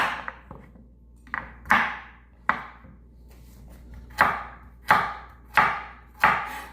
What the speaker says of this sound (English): Cut up 3 carrots. I use rainbow carrots in this.